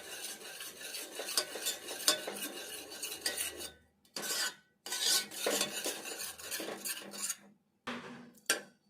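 Ladle stirring soft-boiled raw tamarind in a pot, a close, repeated scraping and sloshing in steady bursts broken by short pauses, with light metal clinks against the vessel.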